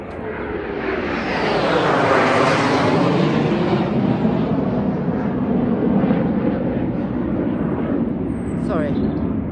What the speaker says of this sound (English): Sorry, that's a jet.